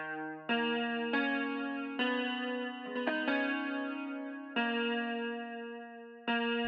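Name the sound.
second guitar virtual instrument from Spitfire Audio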